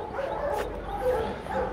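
A Rottweiler at a dog market in Hanoi gives a few short, muffled barks and yips over busy background noise.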